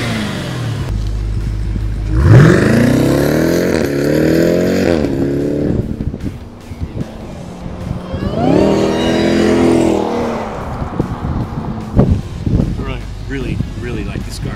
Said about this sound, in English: Rev noising from the front for the supercharger.